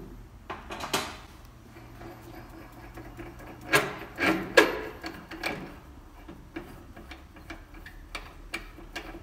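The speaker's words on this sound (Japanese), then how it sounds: "ちょっとだけしかね削らなかったんですけど、こんな感じで綺麗に削れるんで" A brake disc rotor's surface is resurfaced by hand, giving soft scraping and rubbing strokes with a few sharper clicks and scuffs in the middle, at moderate volume with no talk.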